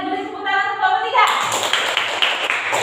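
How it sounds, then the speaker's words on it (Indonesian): Classroom applause for a student group in a primary school lesson: a teacher's voice first, then a burst of clapping from many children that starts abruptly and continues steadily, close and fairly loud. "beri tepuk tangan untuk kelompok 3"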